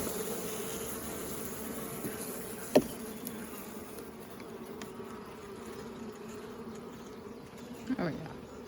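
Huge honey bee swarm buzzing at a hive, a steady close droning hum with a couple of brief knocks and handling sounds over it.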